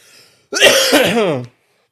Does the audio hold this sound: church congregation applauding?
no